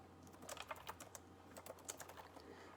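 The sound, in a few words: typing on a computer keyboard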